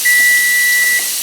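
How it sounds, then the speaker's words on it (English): A pressure canner processing raw-packed beef vents a loud steady hiss of steam with a thin high whistle running through it, close and continuous. "so we've got that steady stream of steam."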